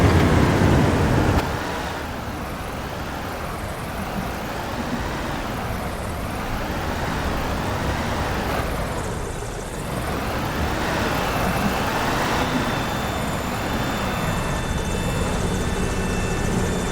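An airport baggage tug driving across the apron in Airport Sim, heard as a steady engine drone with slowly rising and falling pitch, joined by a distant aircraft-like whine, with no talk.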